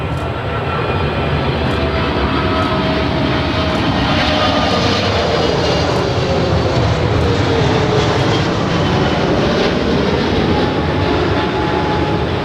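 A Delta airliner takes off from LAX runway 24 left, its jet engines roaring loudly and steadily for the whole stretch, a broad sustained rumble close by with no voices.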